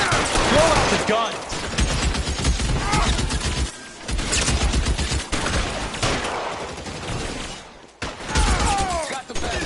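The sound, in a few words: gunfire in the video game L.A. Noire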